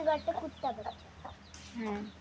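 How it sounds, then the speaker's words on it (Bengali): Hens cluck in short bursts close by, mixed with higher peeping calls of many newly hatched chicks, a brief busy farmyard moment. "এই দেখো অনেকগুলো মুরগির বাচ্চা ফুটেছে"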